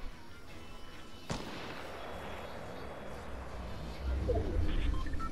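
Grenade blasts in a duos battle video game, a sharp burst followed by a rumbling tail and a louder low boom near the end, with background noise throughout.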